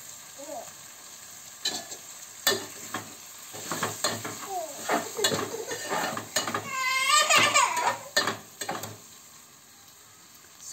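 Kalva (oysters) with kokum sizzle and are stirred in a pan, giving bursts of frying crackle and scraping strokes at an irregular rhythm, close and moderately loud, with a brief high squeal partway through.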